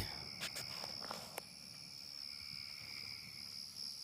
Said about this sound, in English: The crickets are loud though.